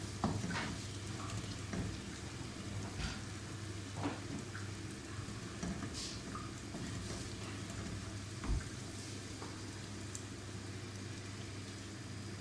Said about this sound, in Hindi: अब इसको हम थोड़ा सा और फ्राई करके फिर इसमें चिकन डालते हैं।